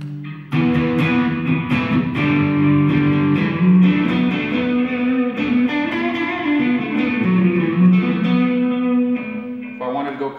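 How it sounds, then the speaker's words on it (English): Electric guitar played through an analog delay pedal, with a touch of reverb, sustained chords ringing out steadily with echoing repeats, close and loud throughout with no talking. "If I add my delay on there"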